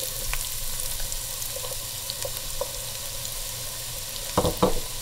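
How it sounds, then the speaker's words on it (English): Onion sautés in hot oil in a pot, a moderate continuous sizzle with faint crackles and a couple of louder stirring clatters near the end. "First we're gonna saute the onion."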